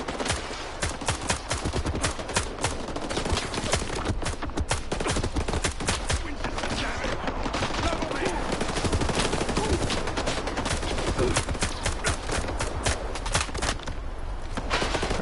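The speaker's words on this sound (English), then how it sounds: "Why are you shooting me?" Rapid bursts of gunfire from enemies in the video game STALKER 2, dense cracking shots and automatic fire continuing without pause at moderate loudness.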